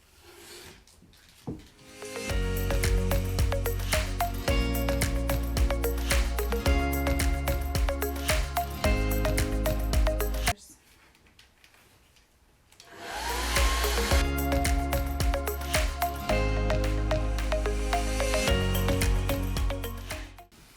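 A hair dryer blows steadily on wet paint on a wooden barn quilt board, a loud continuous whine running for several seconds, briefly cut off, then switched on again.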